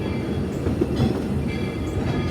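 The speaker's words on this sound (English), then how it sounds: "As we are arriving into the station, please remain seated until the train comes to a complete stop." Walt Disney World Railroad train rolling into Main Street Station, a steady low rumble of wheels and cars on track, close and continuous with a faint rhythmic clatter throughout.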